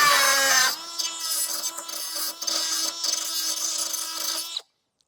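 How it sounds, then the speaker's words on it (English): A small grinder cutting back the bevelled leading edge on a metal lock: a loud, high-pitched, steady whine that dips in pitch as it bites into the metal, then cuts off abruptly after about four seconds. "So just going to get a small grinder And we're just going to take that bit of bevel out."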